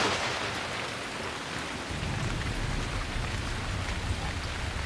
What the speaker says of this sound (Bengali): বৃষ্টি আবার বাড়ছে।